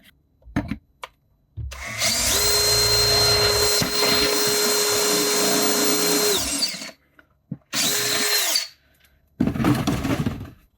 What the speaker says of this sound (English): I'm going to drill through that middle hole and attach it